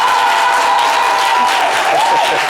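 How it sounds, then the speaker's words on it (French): A crowd claps and murmurs as an association president arrives on a talk show set, giving a loud, steady wash of applause with voices mixed in and a whistling tone running through it. "La présidente arrive, vous l'applaudissez pas bien."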